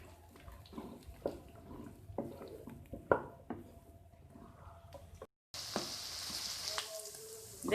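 Onions fry in oil in a kadai for spicy fried chickpeas, a soft, quiet sizzle with scattered clicks and clatters, then a brief gap before a brighter, louder hiss.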